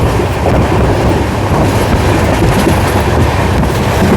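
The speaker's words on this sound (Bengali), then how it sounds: "আর তার মাঝখান দিয়ে ছুটে চলেছে আমাদের ট্রেন" The Padatik Express passenger train rumbles loudly along the tracks past tea gardens beyond New Jalpaiguri, a constant roar of wheels and rattling carriages with no pause.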